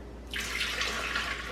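Two cups of warm water pour steadily into a mixing bowl while making bread, a continuous close splashing stream that starts abruptly and runs without talk.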